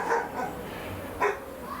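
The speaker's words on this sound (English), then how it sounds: "what's that dog barking at?" A dog barks outdoors near a garage workshop, several sharp barks a little way off, with a louder bark near the end over quiet background noise.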